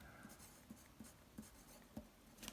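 Pencil writing on a navigation chart during celestial twilight planning, a run of soft scratchy strokes with light rhythmic taps about every half second, quiet and close.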